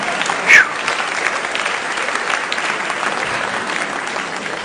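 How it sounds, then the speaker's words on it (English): An audience claps during a live mental-math demonstration, a steady round of applause held for several seconds with a brief louder burst near the start and another at the very end. "Give them a round of applause."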